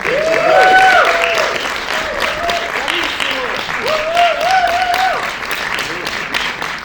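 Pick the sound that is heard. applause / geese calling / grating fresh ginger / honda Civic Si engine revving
applause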